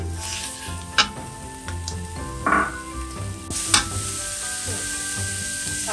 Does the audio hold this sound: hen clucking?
no